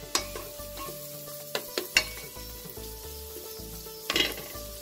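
Onions fry in a pan until golden, hissing and sizzling while a spoon scrapes and knocks against the metal in irregular stirs, a few louder clatters standing out; no one speaks.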